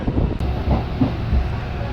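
An Azimganj–Rampurhat MEMU train runs at night, its steady rumble and faint clatter mixed with rushing wind through an open window.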